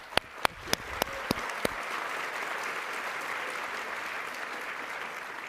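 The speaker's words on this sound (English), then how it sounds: "I'm glad that you all clap" A crowd at a live SXSW 2024 panel breaks into steady, broad applause that fills the room after a few sharp opening claps, sounding moderately distant.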